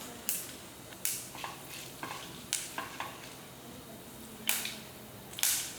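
Black peppercorns spluttering in hot oil for a Tamil pirandai kulambu, a steady close sizzle broken by a series of sharp popping bursts at irregular intervals, with no talk.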